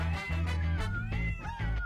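A voice imitates a cat, meowing several times in quick succession, close and fairly loud, with a steady low musical hum underneath.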